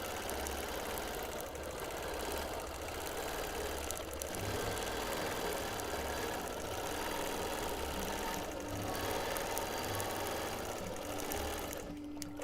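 Home sewing machine stitching a free-motion quilting pattern of mod boxes, running in a steady, continuous whir with a mechanical rattle that keeps an even speed throughout, close by and with no talking.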